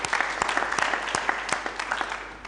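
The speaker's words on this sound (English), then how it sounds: "Please give the government a round of applause." Audience applause at a diaspora homecoming convention, a dense, steady clapping from a large crowd filling the whole moment with sharp individual claps scattered throughout.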